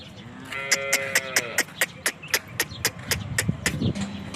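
A pregnant dairy cow gives a clear, drawn-out moo at close range, followed by a run of sharp, regular clicks and knocks with low shuffling underneath.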